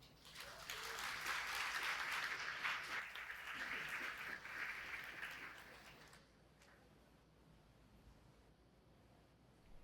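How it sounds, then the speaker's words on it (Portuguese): An audience at a heritage and memory lecture claps for the arriving speaker, moderate applause swelling for about six seconds before dying away into quiet room tone. "Uma salva de palmas para o José Castilho."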